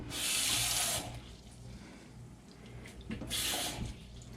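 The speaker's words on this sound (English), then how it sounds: "we're going to put half a cup of water" Water runs from a tap in two strong bursts, a steady splashing rush, then a brief quieter pause before the flow resumes, measuring half a cup.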